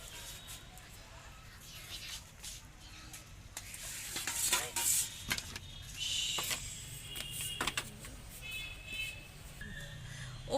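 Food colour is stirred with a spoon and then spooned over fried chicken biryani rice, giving soft scraping and clinking close up over a low background hiss, with faint bird-like chirps now and then.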